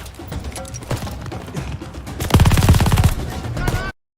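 Massive 88 mm Flak 36 anti-aircraft guns pound away in Call of Duty: Vanguard's El Alamein mission, heavy rapid bursts swelling loud in the middle amid battlefield clatter and shouting voices.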